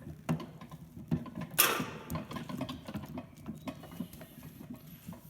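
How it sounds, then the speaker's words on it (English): Metal gears of a Verdin church bell transmission are shifted and seated during repair, giving quiet, close clicks, taps and light mechanical rattles scattered irregularly, with one sharper clank near the middle. "Get the gears to line up a little bit."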